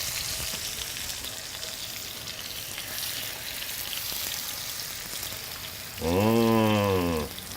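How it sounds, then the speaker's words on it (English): Salmon fillets frying in a hot skillet, a continuous close, bright sizzle that runs steadily, joined near the end by a brief loud vocal sound over the frying. "salmon sounds when you put it in a hot skillet like that."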